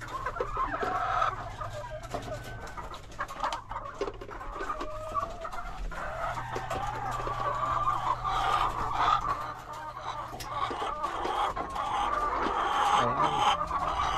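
Hens clucking inside a backyard coop where laying hens are producing eggs, a busy chorus of close clucks and calls continuing throughout, with a low steady hum beneath.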